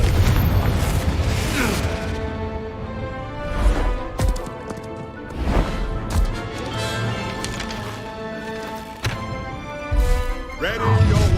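Confringo fire spells blast during combat in the Hogwarts Legacy video game, with repeated booming bursts at uneven intervals over a rumbling musical backdrop, each hit loud and close.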